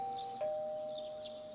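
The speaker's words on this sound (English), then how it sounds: "You hear the doorbell ring." A doorbell chimes in Persona 4 Golden, with a clear two-tone ding-dong and a softer repeat, alone and fairly quiet.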